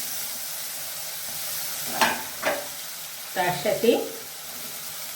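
Tomato paste hitting hot oil with cloves, cardamom, cinnamon and mace, giving a few bursts of sizzling and stirring in the second half, close and moderate, with brief speech.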